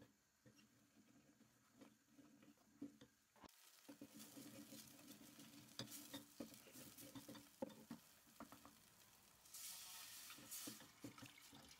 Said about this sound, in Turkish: 5 yemek kaşığı domates suyu ekleyerek kavurma işlemine devam edelim.